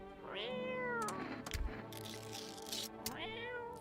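A cat in a horror video game meows twice, a rising cry at the start and another near the end, with rustling and a low thump in between, up close and without voices.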